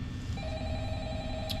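Telephone ringing in the Five Nights at Freddy's game, a thin sustained ring tone starting partway through over a low ambient hum, fairly faint and without talk.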